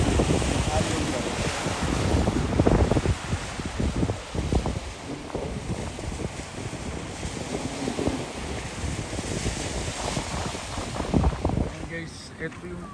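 Lake waves rolling onto Cobourg beach, a continuous washing surf heavily mixed with gusty wind buffeting the microphone, with a few faint voices.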